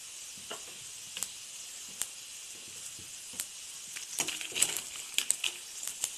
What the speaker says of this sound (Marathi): आणि त्यात जो अख्खा गरम मसाला घेतला होता तो टाकते.